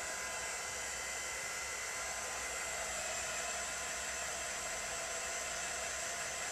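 A hair dryer blows steadily on a rubber-stamped craft project with a bleach smell, giving a loud, constant broadband whoosh with no break, close by and alone.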